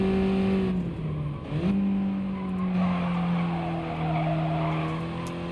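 Race car tires squeal and skid in the GT Sport driving game, a sustained screech over the steady whine of the engine, with brief dips as the car shifts and slides.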